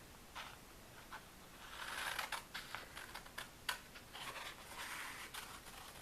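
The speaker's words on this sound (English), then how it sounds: "I'm going to take the one butterfly here that I had colored," Scissors snip through colored paper while a butterfly shape is cut out of a coloring page, giving soft, close crisp clips and rustles at a quiet level.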